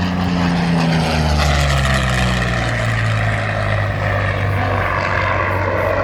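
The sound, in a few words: P-40 Kittyhawk aircraft flying, Allison V12 engine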